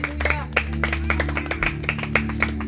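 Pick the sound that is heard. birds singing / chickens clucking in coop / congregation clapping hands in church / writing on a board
congregation clapping hands in church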